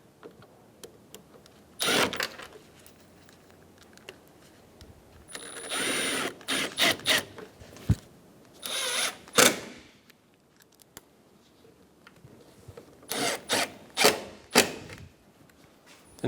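Bolts on the radiator of a 2012-2020 Chevrolet Sonic 1.8L being tightened, heard as scattered bursts of close mechanical ratcheting and clicking separated by quiet pauses.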